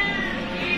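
A rescued cat that had been covered in asphalt gives a single close, clear meow lasting under a second.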